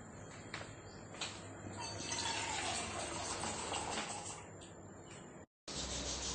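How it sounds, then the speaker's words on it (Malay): Hot water is poured into rice flour and stirred for a traditional kuih, a steady, faint splashing and mixing sound that runs on, breaks off briefly, then resumes. "Tuang air panas ke dalam tepung beras dan kacau."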